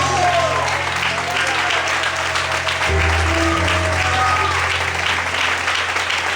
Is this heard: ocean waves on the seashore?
no